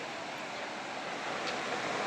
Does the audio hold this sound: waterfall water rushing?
yes